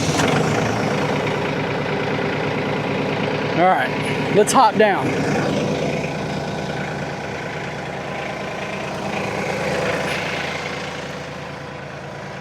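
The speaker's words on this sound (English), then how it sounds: "I'm gonna have to crank the tractor up" Compact LS MT232H tractor engine running at a steady idle, a continuous low rumble throughout with a brief louder burst partway in, while someone talks over it.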